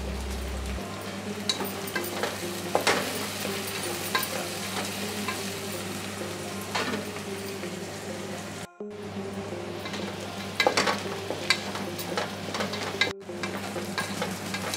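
Onions and green chillies frying in oil in a pan, a continuous soft sizzle with occasional scraping stirs, moderately quiet and steady, briefly cutting out twice, with no voices.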